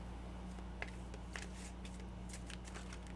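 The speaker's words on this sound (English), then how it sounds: "I'm going to do one more shuffle." Cards being shuffled for a tarot reading, heard as faint, soft riffles and taps over a steady low hum, with no voices.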